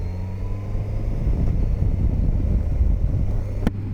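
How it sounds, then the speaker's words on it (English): A Suzuki GSX S1000GX motorcycle engine runs at a steady, smooth drone while riding, mixed with strong wind rush, with one sharp click near the end. "As you can hear, the engine works very nicely."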